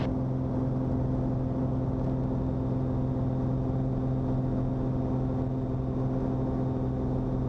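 A Mooney light airplane's engine roars steadily at full power during the takeoff roll, a loud, constant propeller drone with no pauses, heard from inside the cabin.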